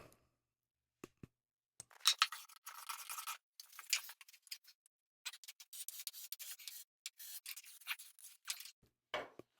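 A hand scraper rasping across a wooden beam in a series of short, quick strokes separated by brief pauses, close and fairly quiet.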